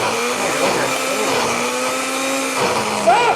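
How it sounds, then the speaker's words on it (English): A blender whirs loudly while blending a cherry fruit smoothie, its steady motor drone shifting pitch slightly as the contents churn, with a short squeal near the end. "you don't want to overfill the blender"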